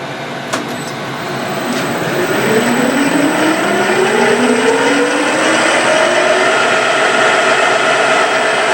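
A Corma milling machine's spindle running at low speed, a steady mechanical whir that spins up after a couple of clicks and settles into a constant hum with a faint high whine, with no talking.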